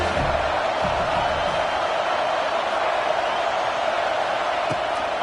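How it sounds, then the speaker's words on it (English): A home stadium crowd at a football game roars loudly and steadily throughout, a dense sustained wall of cheering with no break. "how nice is it to have the home crowd going absolutely bananas?"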